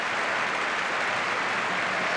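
Steady applause from a football crowd at Wembley during a 1988 tournament match between AC Milan and Bayern München, a broad continuous clapping wash with no break.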